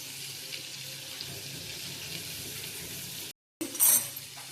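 Prawns dropped into a hot pan for frying give a steady broadband sizzle throughout, with a short gap followed by a louder burst of spitting near the end.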